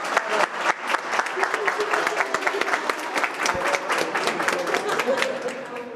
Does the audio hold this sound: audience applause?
yes